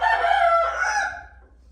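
A rooster on a farm where the fowl roam loose crows once, a single loud, close call that rings for about a second and then tapers off, with no talking.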